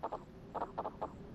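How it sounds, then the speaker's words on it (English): Crickets at a campsite in a werewolf horror game, faint chirps in short paired bursts repeating through a quiet night background, with no voices. "Very loud crickets."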